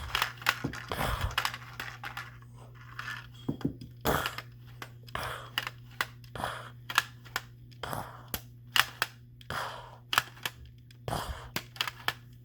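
A Lego Spas-12 toy shotgun clicks and clacks through repeated pump-action cycles and firing, giving sharp irregular snaps over a low steady hum, close and without talk.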